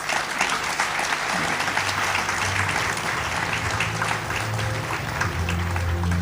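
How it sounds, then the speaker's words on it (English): A large audience at the APICTA 2022 awards ceremony applauds in a sustained, dense round of clapping that stays loud and steady throughout, with a low hum or music tone underneath. "may I request you all to give yourselves a big round of applause"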